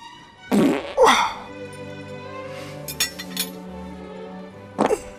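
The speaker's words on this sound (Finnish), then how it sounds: "Häiritseekö sua, jos mä piereskelen?" Comic fart noises: a loud burst near the start followed by a second, then a few short squeaky puffs in the middle and a final double blast at the end, close and clear with no talk.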